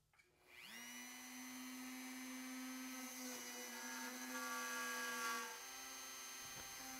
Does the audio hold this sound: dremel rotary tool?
yes